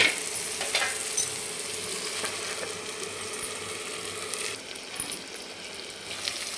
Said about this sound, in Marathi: मिडियम गॅसवर याला छान एकदम टोमॅटो एकदम नरम झाले पाहिजे असं आपण याला शिजवून घेणार आहे चांगलं तेल सुटलं पाहिजे याला